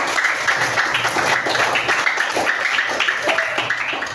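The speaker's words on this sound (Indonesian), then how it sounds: "Tepuk tangan untuk kalian semuanya" Sixth-grade primary school class clapping together in a classroom, a dense, continuous patter of many hands held at fairly even loudness for the few seconds, with no talk over it.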